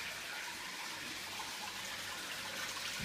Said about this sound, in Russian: Здесь тоже вот льется вода.